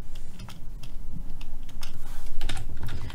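Typing on a computer keyboard while entering answers in the 1990 Oregon Trail game running in DosBox: a steady run of close, rapid key clicks continuing throughout, with no voices.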